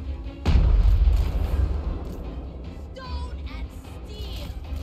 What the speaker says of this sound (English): Let those crane guns keep firing